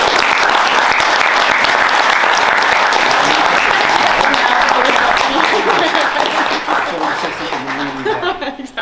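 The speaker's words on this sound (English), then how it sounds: "Can we have an encouraging round of applause for our panel?" Audience applause for a panel discussion on the Trump administration: loud, dense, sustained clapping from a sizeable crowd that thins and fades over the final seconds, with a few chuckles mixed in.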